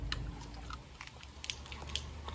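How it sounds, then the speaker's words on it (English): A puppy munches food alongside other pups at a group feeding, giving soft, quiet crunching and chewing clicks in an irregular rhythm over faint background noise. "She out here munching with the other pups."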